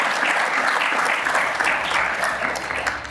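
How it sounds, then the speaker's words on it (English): An audience at a political talk featuring Representatives Keith Self and August Pfluger breaks into a loud, sustained round of applause, many hands clapping close and dense for several seconds with no speech over it. "that deserves a round of applause."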